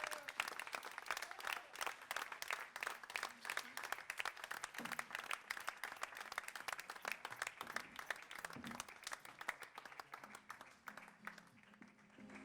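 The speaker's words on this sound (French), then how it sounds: "On peut l'applaudir, il nous rejoint sur scène également." Audience applause at a Biarritz public campaign meeting greets a supporter joining the stage, a steady dense clapping that carries on for the whole stretch, loud and close.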